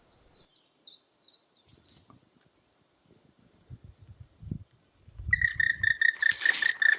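Bird calls from a woodpecker in Norway: a rapid run of high chirps, quiet rustling, then a loud repeated squawking call near the end.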